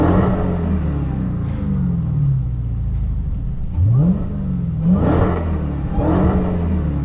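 A 2023 Dodge Charger Hellcat engine revs repeatedly, with a loud, deep idle between several rising blips, up close and with no one talking.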